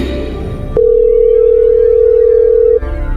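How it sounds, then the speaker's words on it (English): A phone call rings out unanswered as a single steady electronic tone held for about two seconds, loud and clear after a short burst of other sound, with no talk over it. "Let's see if Beef Stew picks up this time"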